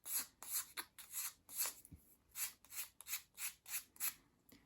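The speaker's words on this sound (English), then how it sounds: "bring in a small piece of finer grade sandpaper. I've got a 500 here, and just sand that around." Fine 500-grit sandpaper rubbed over a small dollhouse piece to smooth a curved edge gives a rapid run of about a dozen close, soft, scratchy strokes in a steady back-and-forth rhythm, with no talking.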